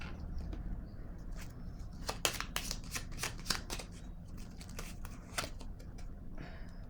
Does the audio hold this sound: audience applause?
no